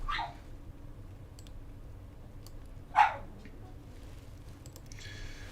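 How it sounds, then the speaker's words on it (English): A dog barking indoors at a closed door, two sharp barks a few seconds apart, heard at moderate distance behind quiet room noise. "Sorry, if you guys hear my dog barking,"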